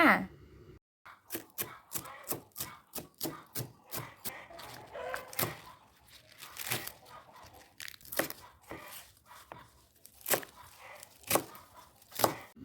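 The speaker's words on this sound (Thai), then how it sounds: "เราก็จะมาหั่นผักกันค่ะ" Rapid, steady knife chops on a cutting board as vegetables are cut, a long run of crisp close strikes with brief pauses and a faint voice in the background.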